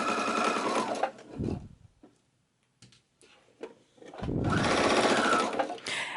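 A sewing machine stitches heavy upholstery-weight fabric with a 100 universal needle, running in two loud sustained bursts separated by a quiet pause with a few faint clicks, close to the microphone.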